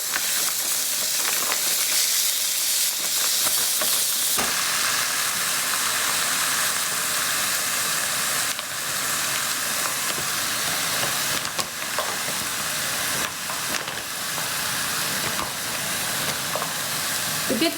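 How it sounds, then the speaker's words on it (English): Pork for Chinese lettuce wraps sizzles in a frying pan with a loud, continuous hiss that grows stronger after the first few seconds and holds steady throughout. "So I'm going to put this in the pan here, and it's going to sizzle."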